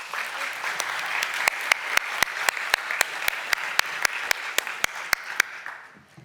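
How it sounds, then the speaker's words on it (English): Conference audience at a university anniversary event applauding a research panel, a dense, steady wash of many hands clapping with a few sharp, regular, louder claps cutting through, fading out near the end. "So give them a warm applause."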